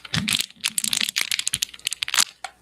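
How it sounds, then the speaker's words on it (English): Plastic interior trim in a 2021 Ford F-250 being pushed and flexed, giving a quick run of close, dry creaks, crackles and clicks over about three seconds with no talking. "he's like moving the plastic around, and it sounds like cheap plastic"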